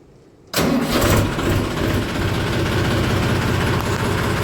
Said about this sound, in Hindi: पहले मैं ट्रैक्टर स्टार्ट कर ले